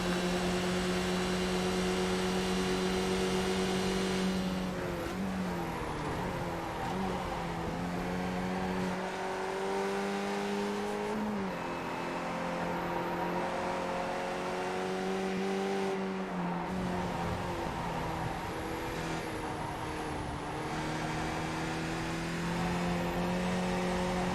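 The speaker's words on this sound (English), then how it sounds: "Could be a drag race to turn 1." Race car engines drone and climb in pitch at Lime Rock Park in a sim racing league, several cars accelerating together with gears shifting up and down, a steady, layered whine heard without talk.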